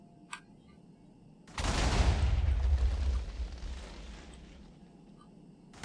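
Turret fire in the Minecraft FTB Tech World 2 modpack, a railgun defense setup: a sudden loud blast that rolls into a sustained roaring rumble, then slowly fades, with a faint tick beforehand and no talk.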